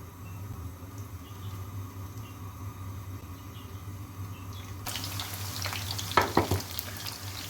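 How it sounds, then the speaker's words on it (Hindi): Chicken pieces frying in oil in a pan give a steady low sizzle, which swells into louder, brighter crackling and spitting partway through, with a few sharp pops near the end. "अब चिकन को मैं फ्राई कर लूँगी। यहाँ पैन में मैंने ऑयल लिया है और अब मैं इसमें चिकन को ऐड करूँगी।"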